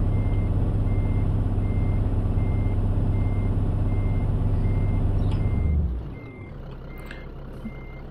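A truck in the Scania Truck Driving Simulator game backs up, its reversing alarm sounding steady evenly spaced beeps over a loud low engine rumble that suddenly drops away near the end.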